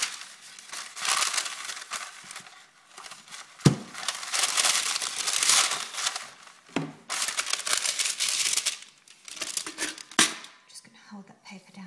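A paper liner crinkles and rustles in irregular bursts while handmade soap is cut, close and crisp, with a few sharp knocks and brief soft murmuring between.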